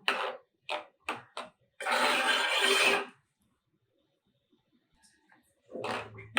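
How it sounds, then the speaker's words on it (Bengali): Carrot payesh stirred in a pot, heard as several short scraping strokes followed by a longer rasping stir, then near silence and one last scrape. "এটা এখন ভালোভাবে নাড়িয়ে দেবো"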